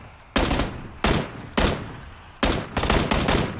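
Loud gunfire in PUBG, several sharp shots and short bursts spaced irregularly, close and punchy, with ringing tails between them and no talking over them.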